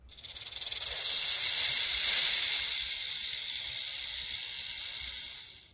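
A yellow and orange snake gives a loud, sustained breathy hiss that swells in over the first second, holds steady for several seconds and fades slightly at the end, with no voices.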